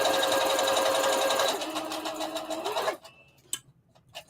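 A sewing machine back stitches to lock the seam on a circle dress, running in a close, rapid burst that changes pitch partway through and then stops, followed by a few faint clicks.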